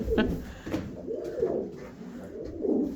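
Pigeons coo in low, rounded, repeated calls close by, a pair apparently courting and choosing a nesting spot, with a soft rhythmic pattern and some faint background sound.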